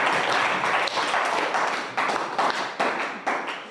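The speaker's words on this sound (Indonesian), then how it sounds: "Tepuk tangan untuk kalian semua." A classroom of students claps together for their group work during a teacher-training lesson in Indonesia, a dense, steady burst of applause lasting the whole stretch with a few louder individual claps standing out.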